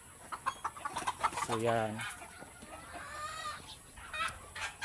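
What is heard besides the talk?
chickens clucking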